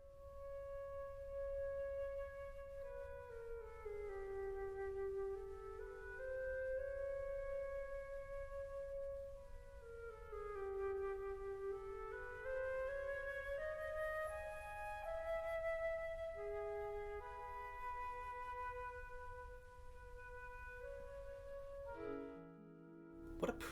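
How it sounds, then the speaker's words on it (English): A solo flute from a woodwind quintet plays a lyrical, flowing melody of sustained and gliding notes for over twenty seconds, clear and close, with no talking, ending in a brief soft thump. "The flute sounds like this."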